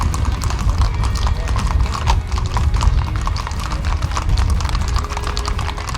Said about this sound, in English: We had walked straight into a parade of Icelandic horses.